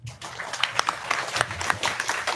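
An audience applauds a speaker at a talk, with dense, lively clapping and sharp individual claps standing out, fairly close and loud throughout.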